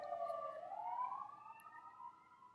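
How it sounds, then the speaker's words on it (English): A siren wails with a rising and falling pitch, moderately distant and fairly faint, sweeping steadily with no voices. "I just want the siren to pass"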